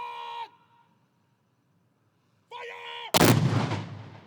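A shouted command rings out, then a single deep ceremonial cannon blast at a 9/11 memorial in Atlantic City booms and rolls away with a long fading echo.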